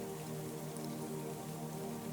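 Steady rain falls continuously, a soft even patter at low level with no breaks or other sounds.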